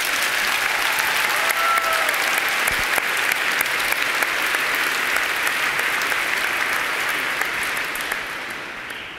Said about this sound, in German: Einen kleinen Applaus bitte oder einen größeren